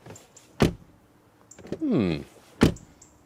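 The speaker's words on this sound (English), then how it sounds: "Wait a minute, door closing sound we have forgotten." A Mercedes E-Class W214 door thuds shut twice with solid, heavy closes, separated by a short whirring mechanism sound and a softer click in between, heard close up.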